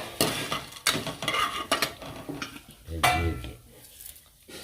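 Spices temper in hot oil in a pan: cumin, fenugreek, chana dal, urad dal, cinnamon, dry chilli and asafoetida. A spoon knocks and clinks against the metal in uneven strokes over a light crackling sizzle.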